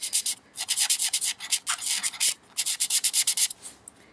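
Alcohol markers in grey tones stroking and blending on paper, a run of quick, close scratchy rubs in bursts with short pauses between, no voices.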